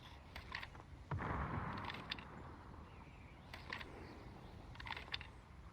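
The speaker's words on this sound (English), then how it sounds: "Yeah, I hear the guns." Gunfire in a video game crackles far off in short scattered bursts, faint and spread across a low background rumble, with no voices over it.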